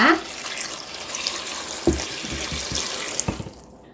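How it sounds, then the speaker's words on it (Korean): Water is poured into dongchimi, a radish water kimchi with green onions and pickled chilies. A steady, splashy close pour runs throughout, with a few drips and bumps near the end before it tails off. "동치미에 물을 부어 보겠습니다."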